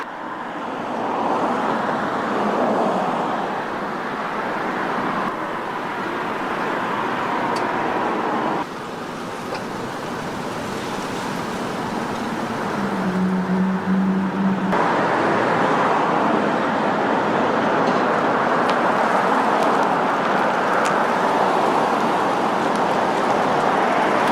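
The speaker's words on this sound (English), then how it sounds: "I see a whole lot of nice cars driving by all the time." Steady road traffic near Orlando, cars driving by in a continuous loud wash of tire and engine noise that swells as vehicles pass close, with no talk over it.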